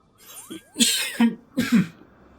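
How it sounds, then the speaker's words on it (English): Several harsh coughs in quick succession, close and loud, each a sharp raspy burst, with nothing else heard. "Haven't coughed like that in a while."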